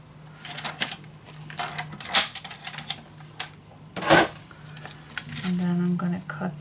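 Paper being cut for a Stamperia mini album craft project, a series of crisp snips and taps in uneven bursts, close by, with a person talking over parts of it.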